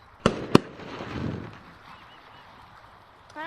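Fireworks going off in the Gorilla Tag video game, two sharp bangs in quick succession followed by a crackling rumble that fades, then a brief rising whistle at the end.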